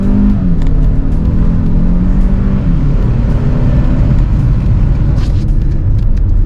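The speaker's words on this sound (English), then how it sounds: "I again want you to just hear that engine blasting its lungs out." A 2024 Hyundai Creta turbo petrol SUV with a 7-speed DCT revs hard in lower gears with the windows partly down, a loud, sustained engine roar mixed with road rumble.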